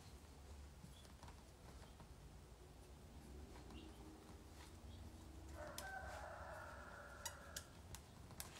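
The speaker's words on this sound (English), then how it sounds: "You hear the rooster getting after it?" A rooster crows outdoors, distant and faint, a drawn-out call rising above steady background noise with scattered small clicks, at an indoor autograph and Q&A session.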